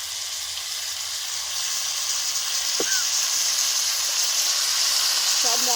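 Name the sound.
chili and cumin spice paste frying in pan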